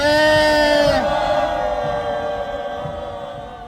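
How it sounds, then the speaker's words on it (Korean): A crowd at a civic groups' press conference on Seoul's Gwanghwamun square gives a loud, sustained collective shout of about three seconds that fades out toward the end. "와 함성을 3초간 외쳐주시기 바랍니다."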